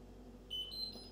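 A dishwashing machine's start button gives a short run of faint, high electronic beeps right after being pressed, with two or three thin tones stepping upward against a quiet room.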